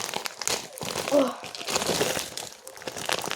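Plastic foil being handled, producing close, irregular crinkling and crackling bursts, with a voice briefly audible in the background.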